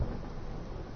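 Thunderstorm at sea in The Witcher 3: Wild Hunt, a deep rolling rumble of thunder over steady rain and wind, muffled and continuous for a brief moment with no voices.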